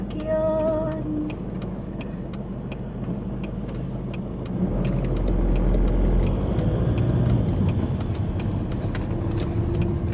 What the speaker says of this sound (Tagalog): Dami naman sasakyan.